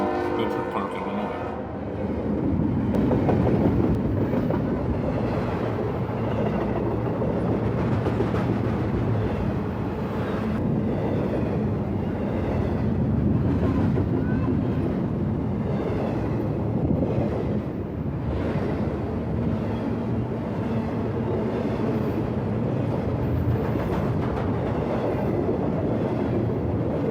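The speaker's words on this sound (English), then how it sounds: "Train ID I-026 hustles a mix of refrigerated goods as well as dry good containers northbound" A northbound CSX intermodal freight train, carrying refrigerated and dry containers, rolls past at Bedford Park, Illinois with a loud, steady rumble and wind buffeting the microphone throughout.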